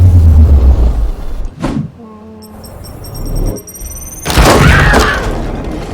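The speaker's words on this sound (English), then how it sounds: "Deploy your frag grenade, brother." A frag grenade detonates in the video game Warhammer 40k Chaosgate Daemonhunters: a heavy booming blast with a rushing tail, following a sharp whoosh, chiming electronic tones and rumbling game audio, loud and close.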